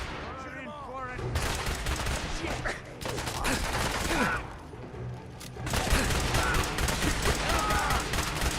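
Gunfire in Fallout 4: dense, continuous bursts of rapid shots fill the scene, loud and sustained with a short lull near the middle, while characters talk over the shooting throughout.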